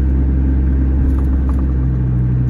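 A lowered Chevy Colorado shop truck rolls along with a steady, close engine rumble and low road drone, driving smoothly at modest speed after a U-joint and driveshaft replacement.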